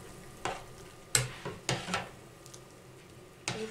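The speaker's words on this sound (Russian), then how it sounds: "И теперь выливаем в кастрюлю. И хорошо размешиваем." A spoon stirring egg mixture into light chicken and potato soup in a pot, giving several separate scraping knocks and clinks against the metal, fairly soft and close, with no talking.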